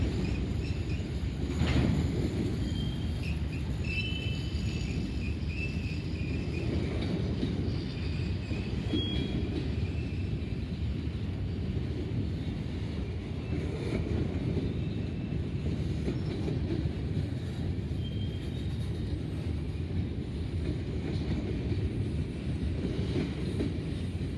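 A very long, slow freight train rolls past in Greenwich, Ohio, with a steady low rumble of wagons that never lets up and faint wheel clatter and squeal running through it. No one speaks.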